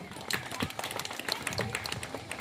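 Audience at a school Independence Day celebration clapping in applause, a dense continuous patter of many hands throughout, moderately close, with some voices mixed in.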